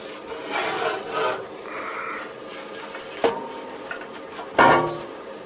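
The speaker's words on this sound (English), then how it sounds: "Remove these 6 screws and that loosens up the chassis," Screws being removed and a metal enclosure loosened from a Jerrold 601 sweep frequency generator, with close scraping and rubbing, then a sharp clink and a louder metallic clunk near the end.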